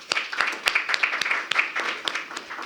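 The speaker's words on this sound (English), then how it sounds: "So give them all a round of applause." An audience applauds at a ribbon cutting for a tech and innovation campus, brisk close-sounding claps with several sharp individual hits standing out from the crowd.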